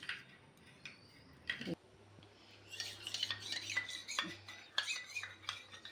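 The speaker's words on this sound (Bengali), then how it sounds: "ভালো করে মিশিয়ে নিই" Mango kulfi ice cream mixture being stirred, with light clinks and taps of a spoon against a bowl in quick irregular bursts, soft and close.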